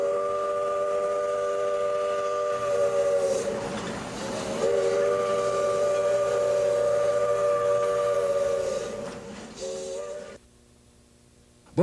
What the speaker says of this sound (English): you can still hear the whistle of those old locomotives